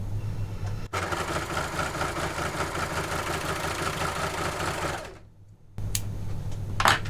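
A Janome overlocker sewing machine runs steadily while trimming away excess fabric, a loud, close, continuous mechanical whir that stops abruptly for a moment before starting up again.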